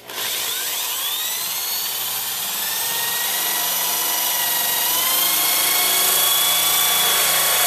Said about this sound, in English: just get a good grip on your drill, start to operate it before it actually hits the surface